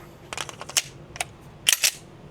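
Pistol shots from a Kimber 2K11 Comp fired at a range, a few sharp reports spaced unevenly, including a quick pair near the end, moderately distant and crisp.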